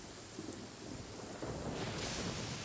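Thunder rolls beneath steady rain during a storm in the video game Genshin Impact, a soft, continuous wash of rainfall with a low rumble that builds and brightens toward the end.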